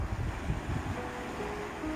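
Sea waves wash continuously along the shore below a Guanyin statue at Hua Hin, Thailand, a steady broad rush mixed with wind buffeting the microphone.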